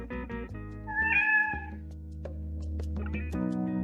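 A domestic cat meows alone, with several clear tonal calls that rise into a longer, strained meow in the middle, then softer chirps. Faint background tones sit underneath.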